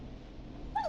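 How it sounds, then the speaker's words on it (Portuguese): A neighbor's dog in the Killer Frequency video game gives a short, whiny bark or yelp near the end, moderately close over a low background hum. "Is that a neighbor's dog?"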